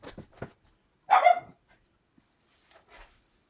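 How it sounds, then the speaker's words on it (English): A pet dog barks for its dinner in a home painting studio: a few soft yips at first, then one louder bark, followed by faint whimpers, close by and otherwise quiet. "You heard my dog announcing that he wanted dinner"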